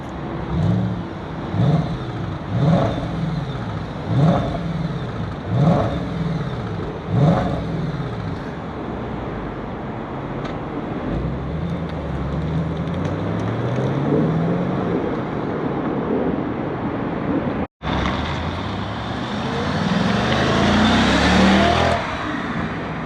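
A stock-exhaust Audi S5 with a 4.2L V8 blips through a run of short, evenly spaced revs, then pulls in one long, loud, rising acceleration, with a brief cut near the end.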